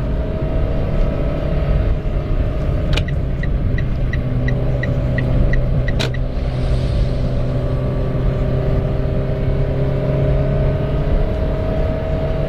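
Toyota Agya 1.2 G TRD automatic pushed hard on kick-down, its small engine droning at high revs in a steady, loud, continuous roar with road rumble and whir throughout, plus a faint regular ticking.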